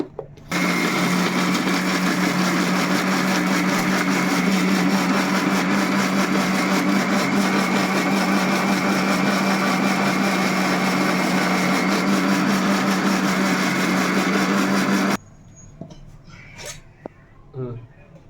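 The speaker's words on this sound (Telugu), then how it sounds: "మిక్సీ పెట్టేసుకుందాం." A loud mixer grinder whirs steadily for about fifteen seconds, grinding star anise, white sesame seeds and water for biryani masala, with a constant motor hum, then cuts off, leaving quiet rattles and small clinks.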